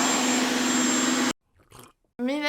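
A vacuum cleaner sucking up pet hair in an apartment whines loudly and steadily, then cuts off abruptly, leaving near silence with faint rustling before a brief burst of motor noise returns.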